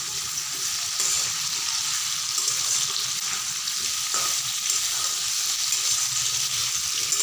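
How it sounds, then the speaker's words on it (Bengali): Jackfruit pieces fry in a pan of hot oil, giving a steady, close sizzle with occasional stirring scrapes throughout and no talking. "এঁচড়গুলোকে ভেজে নিলে কিন্তু টেস্টটা বেড়ে যায়, তো সেই কারণে আমি ভেজে নিচ্ছি।"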